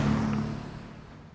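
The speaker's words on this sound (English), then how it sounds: "We're going underneath all the noisy cars now." Traffic rumbles on a bridge overhead, heard from the quiet water below as a low, fading engine drone that tails off over a second or so.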